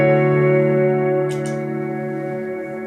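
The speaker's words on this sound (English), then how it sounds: "The third reverb in my chain is the Walrus Audio Slotva" A Walrus Audio Slotva reverb pedal on its Dream setting holds a steady, lush ambient pad of sustained layered tones, loud and even throughout, with a couple of soft airy swells rising on top partway through.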